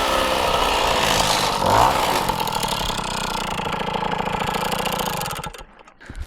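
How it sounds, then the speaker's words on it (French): A Motobecane moped engine runs steadily at idle, a loud buzzy two-stroke drone held close by for several seconds before it cuts out near the end. "ça démarre au quart, c'est top. Ça a l'air de tenir ralenti."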